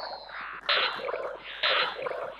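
An image-to-sound device turns a room of seated audience, chairs and tables into synthetic sweeping tones, two repeating scans of shifting pitch, loud and steady with no voices.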